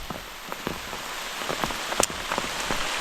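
Heavy rain falling outdoors, a dense continuous patter with scattered sharper drop hits, close and fairly loud with no voices.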